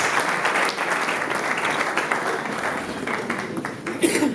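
A crowd at a live hip-hop show applauds and cheers performers, dense sustained clapping that swells near the end, with a voice speaking over it.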